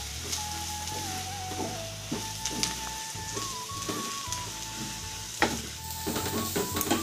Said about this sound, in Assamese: এতিয়া এইটো ষ্টেজত মই এয়া শুকান মছলাখিনি গোটেইখিনি দি দিম